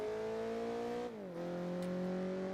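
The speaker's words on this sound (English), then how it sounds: "The Gran Turismo series has historically had issues with engine noise" A car engine in the video game Gran Turismo 4 holds a steady, buzzing drone, dips briefly in pitch as if shifting gear, then settles into a constant tone again.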